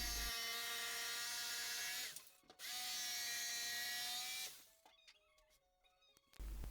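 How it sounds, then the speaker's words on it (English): A power tool cuts a notch into 18 mm hardwood plywood in a workshop, two loud sustained bursts of high whining cutting with a short pause between, followed by quieter clicks and handling noises. "Here I am cutting a small notch to accommodate the brick pier in the wall."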